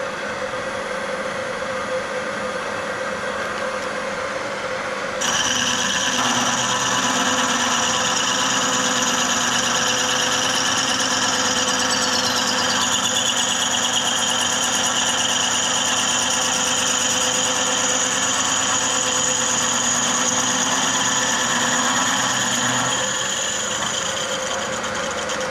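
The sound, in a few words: machine tool machining a trike frame part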